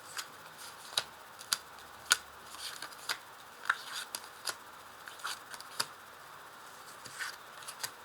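Tarot cards are laid out on a table with a series of soft, crisp taps and slaps at irregular intervals, close and fairly quiet.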